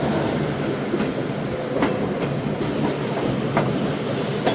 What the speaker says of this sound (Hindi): इस वक्त 8:35 और रायवेंड जंक्शन पहुंची है ट्रेन